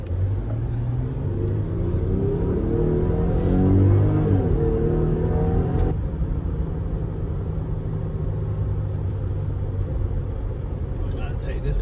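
A car being test driven with sport mode on and eco mode off, its engine rumbling steadily and fairly loud throughout, briefly rising around the middle before settling back to an even drone.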